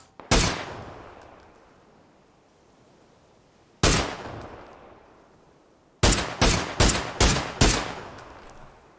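Gunfire in PUBG: a single loud shot with a long echoing tail, another lone shot a few seconds later, then a quick string of five or six booming shots, all fairly close and clear.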